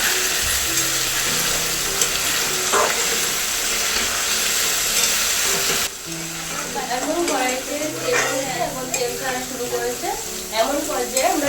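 Fried potatoes are sautéed with a cooked spice paste in a pan for a potato and lentil-fritter curry: a steady close sizzle at first, then louder, uneven scraping and stirring clatters over the frying.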